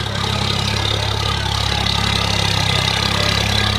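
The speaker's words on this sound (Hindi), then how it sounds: "ये देखिए पावर ट्रैक ट्रैक्टर आता हुआ आप सभी के सामने" A tractor engine approaches across a farm field, a loud, close, steady low throbbing rumble that holds throughout with no talk.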